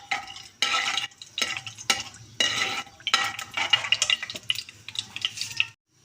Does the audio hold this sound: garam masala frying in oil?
yes